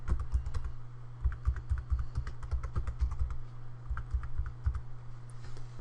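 A display name is typed on a computer keyboard as a steady run of close, crisp key clicks. There is a low hum underneath and no speech.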